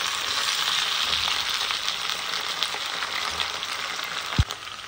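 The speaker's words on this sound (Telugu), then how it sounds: "ఈ విధంగా వంకాయ ముక్కలు కూడా వేసుకొని బాగా రోస్ట్ చేసుకుందాం" Eggplant pieces roasting in oil in a pan produce a steady, close crackling sizzle with occasional small pops and one brief clunk near the end.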